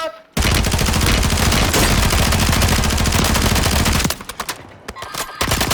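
Sustained automatic gunfire in the Warzone battle royale on PS5, a loud, dense burst of rapid shots lasting about four seconds, then breaking into scattered bursts and a few isolated shots.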